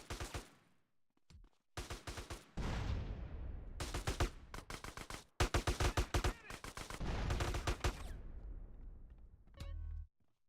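Gunfire in a GTA San Andreas DYOM mission, with bursts of rapid automatic shots and single cracks in quick volleys separated by short pauses, loud and close with no talking over it.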